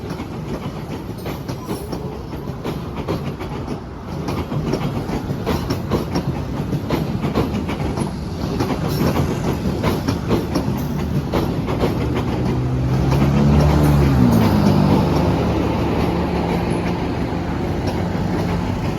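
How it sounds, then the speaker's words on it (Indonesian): A commuter train from the Garut line rolls past on the railway, a steady broadband rumble with faint clickety-clack that swells midway, while a lower engine drone rises near the end. "kereta api juga dari arah stasiun Bandung"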